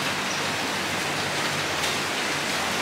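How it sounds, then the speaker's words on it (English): Steady early-morning rain falls continuously in Phuket, Thailand, a dense even hiss with no pauses and no voices. "And it is raining."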